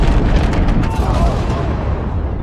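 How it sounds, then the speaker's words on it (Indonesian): A loud, rumbling bomb explosion in a Batman film roars and sustains, dense low-end blast filling the whole moment like a cinematic bomb detonation. "Riddler kemudian meledakkan bom tersebut."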